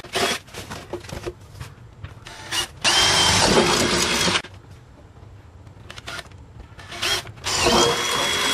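Power drill boring pilot holes for rivets while building a hydraulic staging brake, heard as a few loud whining bursts of several seconds each, separated by quieter handling clatter and ratcheting clicks.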